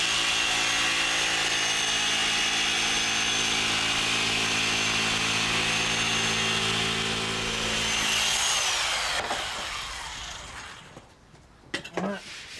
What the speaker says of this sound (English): Always put a mask on when you're cutting MDF.